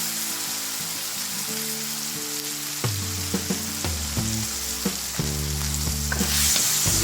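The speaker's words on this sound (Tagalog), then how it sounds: "Gisa ulit." Chicken sautéing with a splash of soy sauce in a pan for lomi, a loud crackling sizzle broken by repeated scraping and clanking stirs, with no one speaking.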